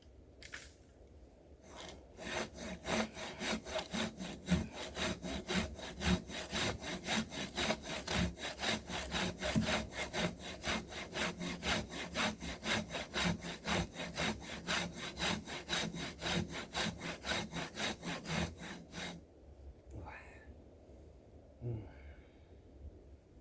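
A hand saw cuts through wood with fast, steady back-and-forth strokes that stay loud and close for about seventeen seconds, then stop, leaving a few faint handling sounds.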